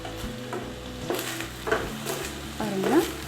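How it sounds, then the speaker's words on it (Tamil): Moringa leaves sautéed in a pan give off a soft, continuous sizzle broken by a few brief scraping stirs and light clinks of a utensil against the metal. "இந்த மாதிரி லைட்டாக வதக்கிட்டு 1 நிமிஷம் கூட ஆகலை"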